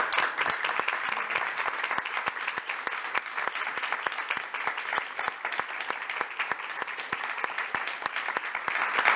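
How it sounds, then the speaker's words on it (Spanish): Sustained audience applause at a Málaga Talent award event, dense and steady from an indoor crowd, a sharper scatter of individual claps running through the full nine seconds with no talk. "Así que vaya el aplauso."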